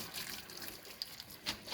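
Cooked noodles are poured out of warm water to drain. A faint trickle and a couple of soft, brief splashes come through over a quiet kitchen background.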